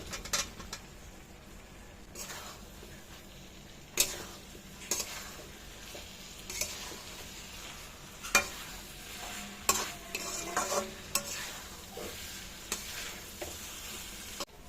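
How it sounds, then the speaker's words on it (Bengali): Stirring previously fried potatoes and figs into a sizzling spice paste for fig kalia, a low steady fry broken by repeated scraping knocks of the spoon at irregular intervals, near and fairly soft. "এখন আমি দিয়ে দেবো এখানে ভেজে রাখা আলু আর ডুমুরটা"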